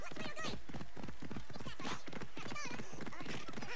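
Horse hooves pound in a steady, rapid galloping rhythm through the city of Athens in the video game Assassin's Creed Odyssey, loud and continuous, with a voice talking over them.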